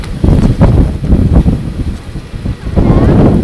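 Strong wind gusting during a blizzard in Clifton, Virginia, a broad steady roar with surges and lulls buffeting close to the microphone.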